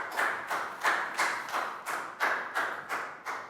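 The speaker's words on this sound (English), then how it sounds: "Big round of applause for Chu." A Year 3 English classroom gives a pupil a round of applause: about eight evenly spaced bursts of clapping in a steady rhythm, moderately loud and close, with no talking over it.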